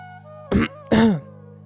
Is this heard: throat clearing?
yes